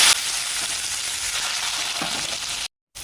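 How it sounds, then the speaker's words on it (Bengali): Chopped onion fries in hot oil in a pan with whole garam masala, bay leaf, cumin and dried red chilli for mutton curry, a steady close sizzle that cuts off abruptly near the end. "পেঁয়াজটা লাল লাল করে ভেজে নেবো"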